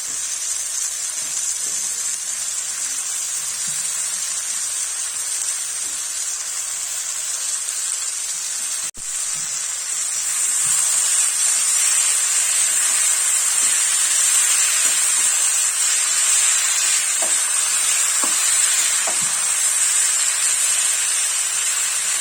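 Boiled greens dropped into a hot pan for a home-cooked fish curry, giving a loud, steady, close sizzle and hiss that swells a little louder partway through and carries on without talk.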